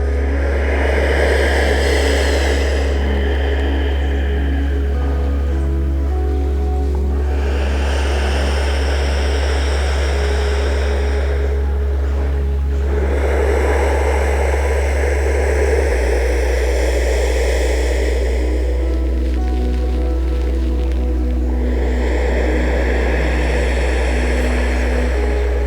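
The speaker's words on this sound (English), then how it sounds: "Maybe even inviting that soft humming sound, Ujjayi breath" Slow ujjayi breaths drawn in and out through the nose during a hatha yoga flow, loud and close, each rushing breath swelling and fading in long, wave-like cycles with brief pauses between.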